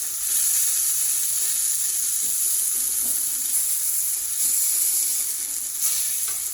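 A steak searing in a hot pan, a loud, continuous close-up sizzle with a bright hiss that holds steady throughout, a few faint bumps beneath it.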